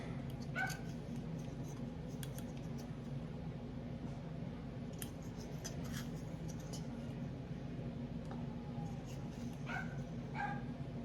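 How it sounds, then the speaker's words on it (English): Dogs barking outside, heard from indoors as a few faint, distant yips and barks in scattered bursts over a steady low household hum. "I'm going to go let some dogs in there outside barking"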